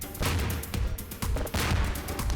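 A weapon fires in Garry's Mod, giving several loud, close blasts in quick succession, each with a booming tail that blends into the next.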